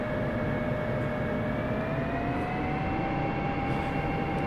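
A jet's engine drones in the DCS World flight simulator as the aircraft slows on approach with gear down, a steady, even roar with a faint rising whine running throughout, no voices.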